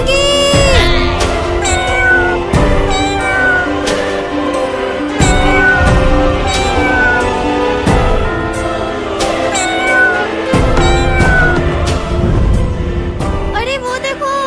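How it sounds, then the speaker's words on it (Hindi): Cartoon cats and kittens meowing repeatedly, loud, drawn-out calls that overlap and recur in quick succession over a musical background, with no talk over them. "सामने से बिल्ली और बिल्ली के बच्चे आ रहे हैं"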